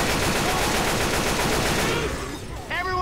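Sustained rapid gunfire from several players shooting at the Tank in Left 4 Dead 2, a dense, loud volley that thins out near the end as a short tonal game sound cuts in.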